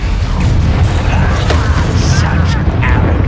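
A Bombarda blasting spell bursts in Hogwarts Legacy, a loud booming crash with crackling debris amid dense combat noise over a few seconds.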